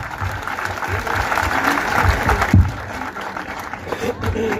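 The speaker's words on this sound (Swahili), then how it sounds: "Tuwapigie makofi mazuri mengine" A church congregation claps steadily and fairly loudly for several seconds, a dense sustained patter of applause from many hands.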